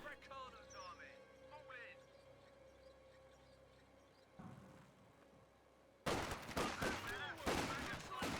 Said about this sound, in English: Volkswagen is firing away